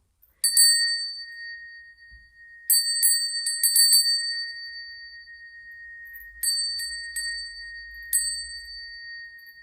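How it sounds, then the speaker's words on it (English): Bright metallic bell strikes ring out in several clusters, each leaving a long sustained tone that hangs between hits, clear and close with no talking. "I'm just gonna ring the bell now."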